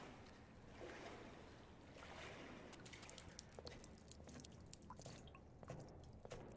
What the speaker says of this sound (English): You can hear the drips